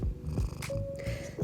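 A small cat purrs close by in a steady rhythmic rumble, with soft brush or paper sounds from watercolor painting over it.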